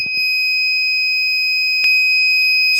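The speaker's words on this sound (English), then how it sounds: "you can see buzzer and LED are working" Buzzer on an Arduino temperature alarm circuit with an LM35 sensor sounds a continuous, shrill electronic tone that stays steady throughout, with a couple of faint clicks nearby.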